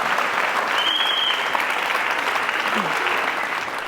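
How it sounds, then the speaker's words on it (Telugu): A studio audience claps in sustained, dense applause at a steady level, close and full, with no pause across the whole stretch. "ఆడియన్స్ బట్ సార్ కోసమైనా చప్పట్లు కొట్టాలి"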